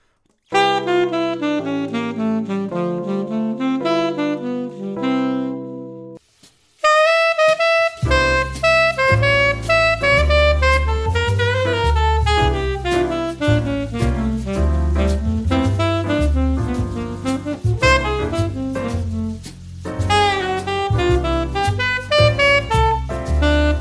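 A jazz piano phrase: a short unaccompanied run, a brief pause, then fuller chords with bass moving through a 1-6-2-5 turnaround, busy and steady.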